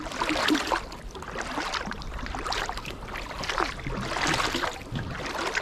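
A kayak paddles upstream against the current on the River Thames in Reading. Close, rhythmic paddle strokes splash and swirl through the water about once a second, with a little wind noise and no talking.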